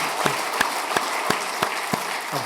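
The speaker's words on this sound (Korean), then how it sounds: "우리 큰 박수로 환영해 볼게요." Worshippers at a Sunday church service applaud to welcome a newcomer, with crisp synchronized claps falling at a regular beat over softer scattered clapping in a roomy sanctuary.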